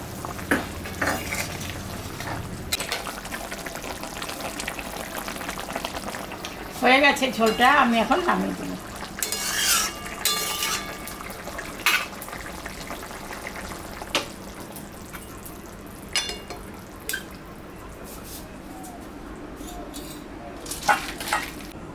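Pieces of magur catfish dropped into a hot pan for curry, giving bursts of sizzling and frying along with clinks of a utensil against the pan and occasional stirring scrapes.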